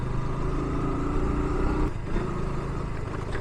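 A KTM RC 200 sports motorcycle is ridden at speed, its engine droning loud and steady with heavy wind and road rumble throughout.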